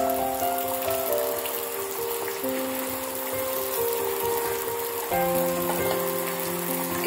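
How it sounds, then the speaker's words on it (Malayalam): A raw mango curry with coconut milk comes to a boil in a pot, giving a soft, steady bubbling and sizzling hiss with faint sustained tones behind it. "തിളച്ചു വന്നു തുടങ്ങിയിട്ടുണ്ട്."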